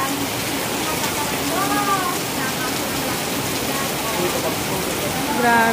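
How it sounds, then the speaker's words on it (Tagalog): Heavy rain pours down during a house blessing at a family mansion as a steady, loud, hissing downpour, with people talking over it now and then. "Grabe, ang lakas ng ulan."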